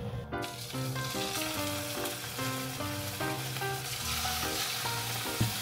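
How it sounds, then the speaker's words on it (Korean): Beef and vegetables fry in avocado oil, giving off a soft, continuous sizzling hiss that sits under prominent background music with a clear melodic line. A light stir or clink is audible near the end, and no one talks. "이제 여기에 소고기를 넣고 야채를 볶아줄게요"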